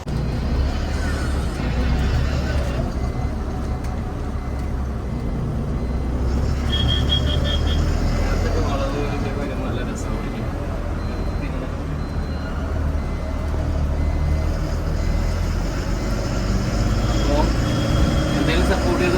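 A brand-new 12 m Leyland tourist bus is driven, its engine rumbling steadily and loudly throughout, with a brief beeping partway through and people talking over it.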